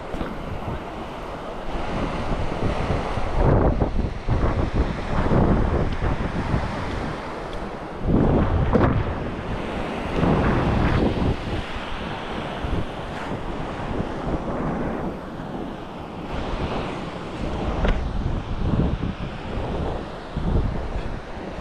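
Steady ocean surf rolls and crashes with strong wind buffeting the microphone, waves swelling periodically over continuous roaring noise, recorded while casting a fishing net at sea.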